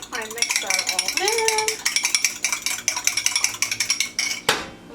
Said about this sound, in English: And then I mix that all